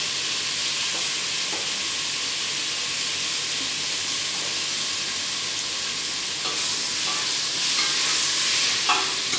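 Tomatoes with salt being stirred in a hot pan while cooking prawn curry, a steady close sizzle and hiss with faint scraping stirs throughout, no talking.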